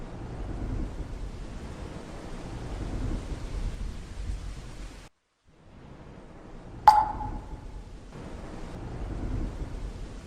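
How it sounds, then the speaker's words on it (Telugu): Heavy rain pours steadily outside, broken by a sudden sharp crack of thunder after a short hush, then the downpour continues hissing at full strength. "బయట చాలా హెవీగా వర్షాలు పడుతున్నాయి"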